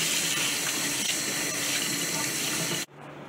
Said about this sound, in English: We'll get her filled up with some water.